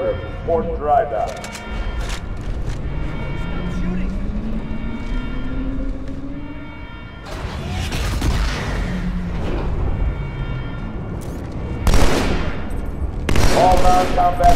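Bursts of weapon fire and booming blasts in the video game Halo 2 Anniversary on Cairo Station, with heavy volleys near the start and loud flurries toward the end, mixed with in-game voices and alarms.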